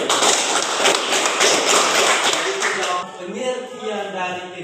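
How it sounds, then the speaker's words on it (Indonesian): Classmates in a school classroom clap for their friend Oli, a dense burst of many hands lasting about three seconds before giving way to a voice speaking. "mari kita memberikan tepuk tangan untuk teman kita Oli"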